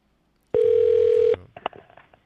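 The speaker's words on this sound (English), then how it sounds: "It's hell getting Dr. Anderson on the phone." A telephone dial tone sounds as a call is placed, a single steady tone lasting under a second, followed by faint clicks and handling noise.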